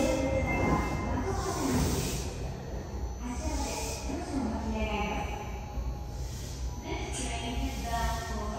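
Sapporo subway train at platform 1 of Asabu station, bound for Makomanai, rumbles in with a steady roar, hissing and rising wheel noise, loud and continuous with a sustained high whine on top.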